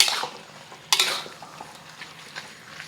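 Stir-fried beef with Chinese broccoli warming in a pan, a soft sizzle broken by a sharp clink of a utensil against the pan and light scraping stirs.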